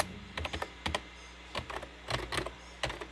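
Typing on a membrane computer keyboard during an IBM ThinkCentre M50 restoration, soft irregular clusters of muted key presses in quick bursts with short pauses between, close and alone.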